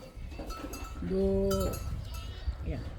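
A goat on a farm gives one clear bleat about a second long, with faint low rustling and background noise around it.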